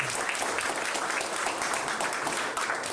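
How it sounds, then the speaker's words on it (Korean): An audience at a Gyeongbuk disability sports association policy workshop claps to welcome guests being introduced. The steady, moderately loud applause runs for a few seconds without pause. "여러분 큰 박수로 환영해 주시기 바랍니다."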